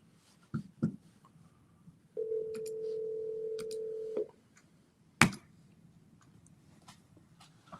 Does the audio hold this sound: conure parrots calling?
no